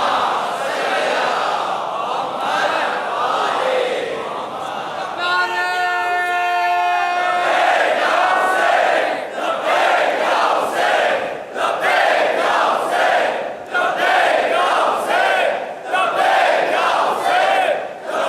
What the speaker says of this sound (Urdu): بلندتر صلوات